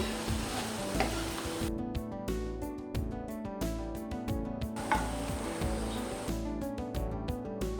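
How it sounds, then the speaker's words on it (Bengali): Fried onions are poured into a pan of beef for kala bhuna, giving a loud continuous sizzle close up, broken by rhythmic scraping stir strokes throughout. "নামিয়ে আমি মাংসের কড়াইতে ঢেলে দেব।"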